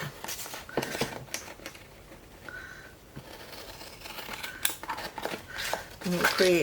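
Scissors cut out paper Christmas gift tags with a series of close, crisp snips and rustles, spaced irregularly. A person talks over the cutting throughout.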